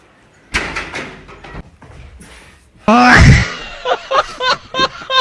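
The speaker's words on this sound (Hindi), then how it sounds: "दरवाजा तोड़ो" A heavy door is smashed open in a comedy sketch, a loud booming crash midway amid strained shouts and groans, with vocal sounds before and after.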